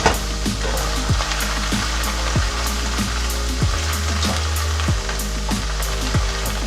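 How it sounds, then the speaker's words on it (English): Carrots frying in hot oil in a pan for a Thai chicken curry, a steady dense sizzle with sharp crackles and regular scraping stirs, close and continuous without talking. "So we're gonna add our carrots. Oil was hot."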